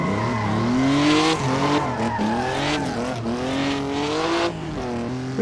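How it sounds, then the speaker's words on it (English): A Toyota 2000GT inline-six wails at high revs down a runway in a racing game, its rising and falling harmonic engine note loud and steady, with a shift dip partway through and no talking. "having this inline 6 screaming coming down this runway is a very nice treat"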